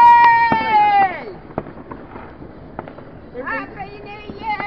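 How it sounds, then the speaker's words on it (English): Fireworks burst outdoors at a New Year's party at home, sharp cracks and pops scattered through the clip, with loud excited voices talking and cheering over them. "Oh, there's fireworks going on over the back there,"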